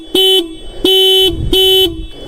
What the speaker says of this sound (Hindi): एक बार हॉर्न की आवाज़ सुनाई देते हैं